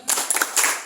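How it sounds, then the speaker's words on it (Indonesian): Short burst of audience clapping in a rhythmic spirit clap, a few quick sharp claps close together, loud and brief. "Tepuk semangat."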